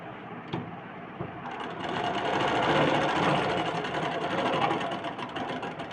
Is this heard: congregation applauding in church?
no